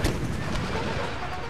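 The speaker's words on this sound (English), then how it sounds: "Cannon!" Cannon artillery fire in the Empire Total War strategy game, a sharp booming shot at the start followed by rumbling decay and further distant thuds in a dense battle din.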